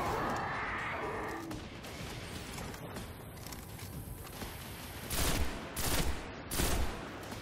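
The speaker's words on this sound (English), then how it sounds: "time to pull out the shotgun" A shotgun firing in a video game, with about three loud heavy blasts spaced roughly a second apart near the end, following a stretch of quieter game ambience.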